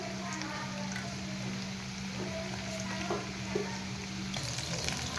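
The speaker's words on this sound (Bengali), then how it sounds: "ভাজা হচ্ছে, এই দেখুন খুবই অল্প আঁচে দিয়েছি যাতে চিকেনটা ভালোভাবে সিদ্ধ হয়" Chicken pakoras fry in oil over a low flame, giving a steady, soft sizzling hiss that holds evenly throughout with a faint hum beneath.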